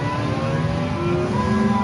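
A race car engine in Gran Turismo 7 drones at high revs, a continuous loud buzzing tone with slowly rising pitch, no talk over it.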